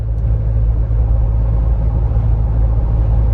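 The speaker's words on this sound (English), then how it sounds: "Hearing a lot more of like my tires than anything" Steady tire roar and low engine rumble from a Ford Bronco cruising at 75 mph on the road, a continuous loud drone with no talking.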